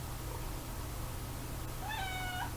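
A house cat gives a single rising meow near the end, clear but moderate in level against a quiet indoor room with a low steady hum.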